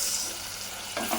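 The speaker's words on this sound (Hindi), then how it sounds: "अब इस प्याज को मैं भूनूंगी सुनहरे रंगत आने तक" Finely chopped onion fries in oil in a pan, a steady close sizzle with a brief stir toward the end.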